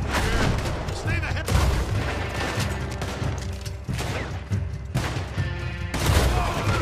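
Gunfire in Red Dead Redemption 2: loud, sharp shots ring out repeatedly, with heavy cracks at regular intervals over a thick, continuous game mix.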